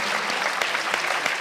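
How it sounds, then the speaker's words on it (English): An audience at a film festival tribute to Kyle MacLachlan breaks into applause, a brief burst of many hands clapping with a few sharper individual claps standing out. "Should we give them a round of applause?"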